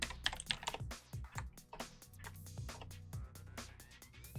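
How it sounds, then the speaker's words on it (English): Fast, irregular clacking of keys on a computer keyboard during a Hacknet hacking game session, close and clear, with bursts and short pauses. "just go nuts with the keyboard over here"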